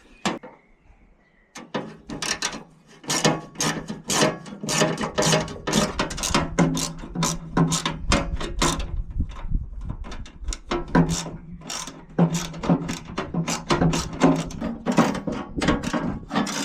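Rapid, repeated ratchet clicking from a hand tool working on a motor mount while the blade is taken off, close and steady, with short bursts of mechanical clatter and no talking.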